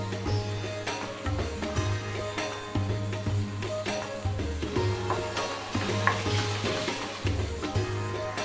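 Curd being stirred into a sizzling masala for fish biryani, with steady scraping and frying noise throughout, close and moderately loud, over a constant low hum.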